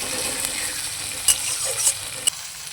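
Chopped onions fry in a pan with a steady crackling sizzle, broken by a few sharp clicks and scrapes from stirring.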